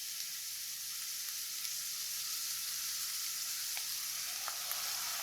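Ginger garlic paste frying in a pan for a spicy Chettinad chicken gravy, a steady bright sizzle that holds evenly throughout with faint occasional pops and stirring ticks, no voices.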